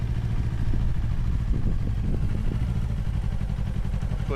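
A 2025 Yamaha R3 300cc motorcycle engine runs at a low, steady, rumbling idle-like pace through a tight U-turn, a continuous mid-close drone with faint clatter.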